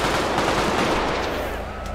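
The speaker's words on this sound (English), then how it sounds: "That's me shooting." Rapid automatic gunfire rattles in a GTA V street shootout, a fast dense burst of shots that holds steady loudness for about two seconds.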